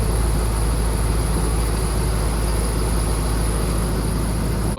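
A squeaking idler pulley belt on a 6.7 Powerstroke engine sounds as a faint rapid chirping buried under a loud, continuous engine and exhaust drone.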